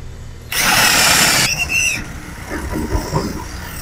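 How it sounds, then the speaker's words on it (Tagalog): A power drill with a number 10 bit bores a hole during a reverse camera install on a 2006 Toyota Hilux, a loud close whine for about a second, then lower grinding and rattling as the bit works through. "Tapos, number 10 na drill bit."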